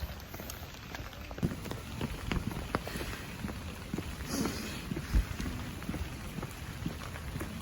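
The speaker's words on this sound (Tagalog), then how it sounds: "Ulan dito. Pangit ng panahon." Steady rain patters on a hard surface at Shifen, Taiwan, with scattered close drips and splashes, moderately loud and constant throughout.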